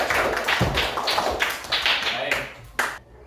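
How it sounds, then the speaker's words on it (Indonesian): Applause from a classroom audience of trainee teachers for a presenting group, a short burst of clapping close by that fades out after about three seconds. "Berikan aplaus untuk kelompok 3."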